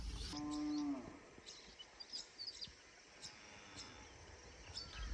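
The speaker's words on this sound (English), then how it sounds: "There's cattle right on the trap site." A cow lets out a single loud moo up close at a trap site in Queensland tall grass, then open outdoor quiet follows with faint bird chirps scattered in the background.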